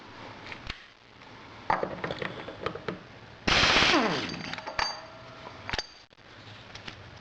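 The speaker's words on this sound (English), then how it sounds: "Now I'm going to take my 36mm socket and my air tool and I'm going to take that nut off." An air impact tool with a 36mm socket rattles off a nut on a 2012 Triumph Bonneville, a loud sustained burst of rapid hammering in the middle, framed by scattered metallic clinks and tool handling noises.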